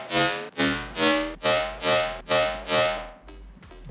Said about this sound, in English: So that's the SPASS Hi Tek bass.